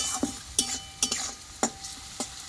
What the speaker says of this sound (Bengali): লবণটা দিয়ে আমি একটু নাড়াচাড়া করে নেবো